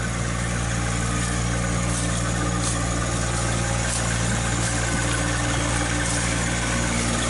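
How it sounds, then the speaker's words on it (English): A small tractor engine drones steadily while pulling a 1942 Studebaker barn find with four flat tires uphill, a continuous loud rumbling hum with vibration and no pauses. "Surprised that little tractor's pulling that thing, but I tell you what, it's still got the power."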